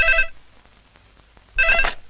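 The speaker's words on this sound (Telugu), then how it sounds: "అదిగో ఆయన ఫోన్" A telephone rings in two loud bursts of electronic bell trills, one at the start and one near the end, with a quiet gap between them and no talk.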